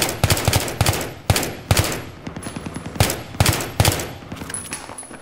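Rapid bursts of M16 rifle fire in the Battlefield 3 shooter, loud and close, several sharp volleys with brief pauses between them, with no talking.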